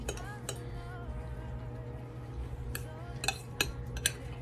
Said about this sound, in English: I just take a fork, just kind of mash them just a little bit